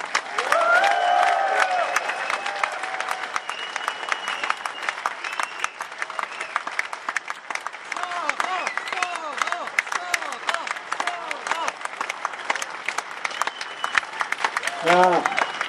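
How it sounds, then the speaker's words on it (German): Audience applause at a political rally in Germany, a dense, sustained roar of clapping from a large crowd that continues steadily for the whole stretch, loud and close, with a brief voice near the end. "das ist dein Applaus."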